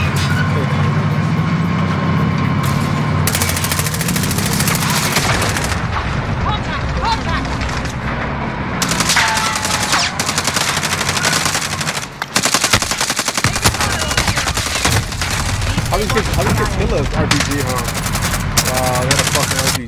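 Rapid small-caliber gunfire in the Call of Duty Warzone battle royale on the original Verdansk map, bursts of automatic shots and booms layered densely throughout, with voices talking over the combat.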